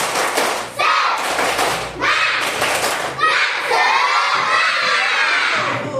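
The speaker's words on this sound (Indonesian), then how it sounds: "Tepuk semangat" A school class of children doing a rhythmic spirit clap in the classroom, loud claps mixed with excited shouting and cheering voices from the whole group, filling the room nearly throughout.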